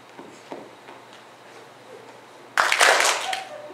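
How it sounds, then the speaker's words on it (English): An audience breaks into a short burst of clapping on cue in a classroom-style session, starting abruptly near the end after a quiet stretch with faint, scattered taps. "when you see the word clap, I want you to clap."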